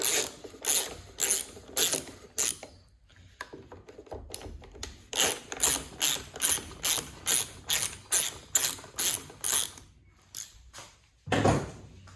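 A ratchet wrench loosens 10 mm nuts on a lawn mower airbox, giving close, crisp bursts of rapid clicking in a steady repeating rhythm with short pauses between strokes.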